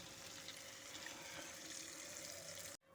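Water is poured into a pan from a bowl rinsed out after holding a spice paste, a steady soft splashing that stops abruptly near the end.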